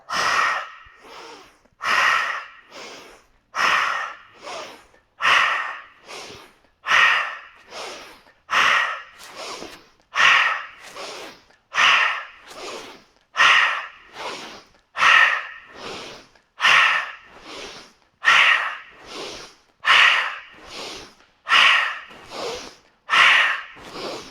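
Deep rhythmic breathing during a yoga exercise, with long, even inhales and exhales repeating steadily, close and clear, with no talking.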